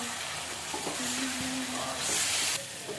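Chicken pieces frying in oil in a wok, browning on both sides, with a steady close sizzle and crackle that swells slightly near the end, no talking.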